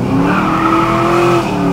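Supercharged LS V8 engine in a stunt GMC truck, a loud, close, sustained roar with a rising tonal whine and tire-squeal-like screech, continuous through the short stretch.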